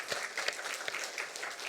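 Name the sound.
applause in church service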